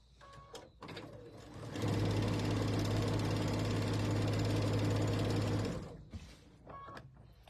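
A sewing machine runs steadily for about four seconds, stitching the last seams of a large pinwheel baby quilt, its loud, even mechanical whir close by, with quieter handling noises before and after.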